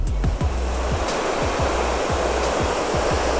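Loud, steady rush of a rainwater stream after a storm in Catamarca, constant and close with a churning roar and no voices.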